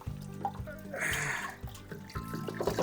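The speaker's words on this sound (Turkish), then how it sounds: "Evet, dinlenmiş musluk suyumuzu ekliyoruz." Rested tap water is poured into an aquarium, giving a steady rushing splash for about a second that fades, with brief bumps and handling noise around it.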